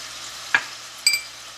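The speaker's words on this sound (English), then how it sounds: "we're going to let this saute and cook" Crawfish tails seasoned with Creole seasoning, garlic powder and onion powder sauté in a pan: two short, sharp stirring scrapes over a faint, soft sizzle.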